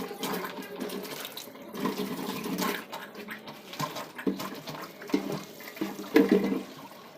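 Water running from a tap into a bucket and bottles for bathing, a steady rushing splash with shifting gurgles as the containers fill, close by and fairly loud.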